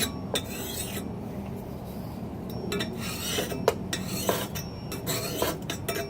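Metal scraping and rubbing as burrs are taken off a lawn and garden tool blade with a Lansky sharpener, a steady gritty grind broken by sharp clinking strokes, close and fairly loud.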